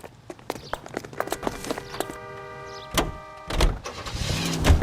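A car in the video game L.A. Noire sets off, with door and engine noises layered over scattered footsteps and short clicks, then a steady motor hum and a louder rumble building toward the end.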